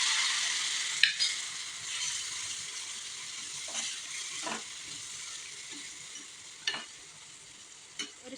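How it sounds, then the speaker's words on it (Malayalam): Bitter gourd pickle sizzles steadily in a pan after vinegar is added, a bright hiss with a few sharp utensil clicks and scrapes scattered through it. "ആ വിനാഗിരിയും കൂടെ ഒഴിച്ചു കൊടുക്കാം ആദ്യം ഒരു സ്പൂൺ ഒഴിച്ചു കൊടുക്കാം"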